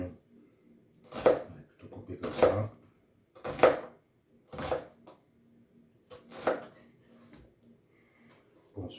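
Onion chopped with a knife on a cutting board while making a vegetable consommé: about seven evenly spaced, crisp strokes landing roughly a second apart, close and distinct against a quiet kitchen.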